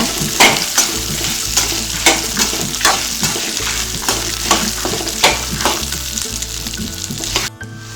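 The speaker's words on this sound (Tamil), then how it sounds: "இது கூட நம்ம கம்பு கடைசியாக போட்டு நல்லா வதக்கிடலாம்" Pearl millet sautéed and stirred in a pan with other ingredients for a chilli chutney, a loud constant sizzle punctuated by regular scraping strokes of a spoon against the pan.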